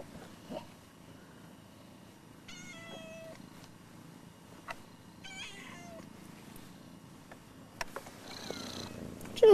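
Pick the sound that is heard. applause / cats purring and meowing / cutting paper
cats purring and meowing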